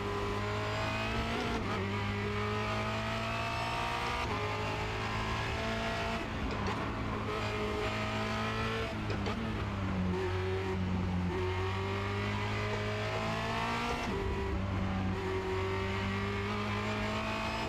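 A Formula Renault 2.0 race car's engine howls continuously at the Charlotte Motor Speedway Roval, heard close from the cockpit, with repeated upshifts, lifts and rising revs across corners, plus a brief tire squeal.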